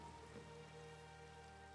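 Steady rain falling outside, a soft continuous hiss of drops on surfaces, faint and unbroken with no voices.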